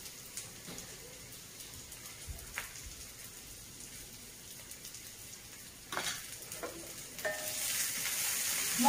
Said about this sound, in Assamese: এয়া পিঁয়াজ আৰু নহৰুখিনি মই ধুনীয়াকৈ অকণমান ভাজিছোঁ